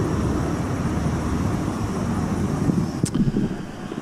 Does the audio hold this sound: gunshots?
no